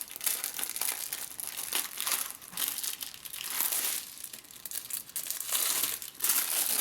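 Crinkly plastic wrapping of a craft kit package being pulled open and crumpled, a steady run of close, loud crackling and tearing rustles with brief pauses, no talking.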